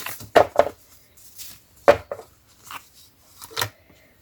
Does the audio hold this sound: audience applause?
no